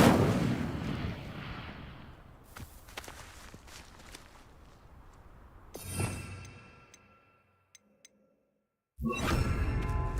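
A fire spell cast in the Hogwarts Legacy video game, heard as bursts of whooshing, crackling noise with thuds and a sharp blast near the end, amid footsteps and brief silent gaps.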